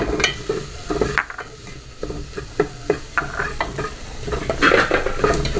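Onion sautéing in a pan with annatto and turmeric, a steady sizzle broken by repeated scraping stirs of a utensil, close and fairly loud.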